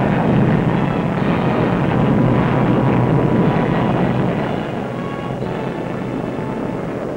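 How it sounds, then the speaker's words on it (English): Supermarine Swift Mark I jet aircraft in flight, a steady loud roaring rush of engine noise with wind-like texture that eases slightly toward the end, with no voices. "The Swift Mark I takes to the sky."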